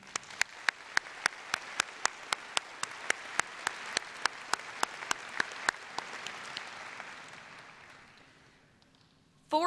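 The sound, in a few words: graduation audience applause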